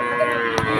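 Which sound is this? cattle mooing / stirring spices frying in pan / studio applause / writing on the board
cattle mooing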